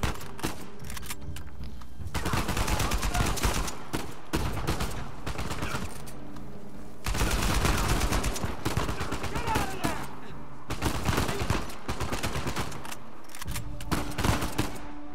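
Shotgun blasts in the video game Uncharted 4 crack out in loud repeated bursts, grouped in heavy clusters with short pauses between volleys, over steady game background noise.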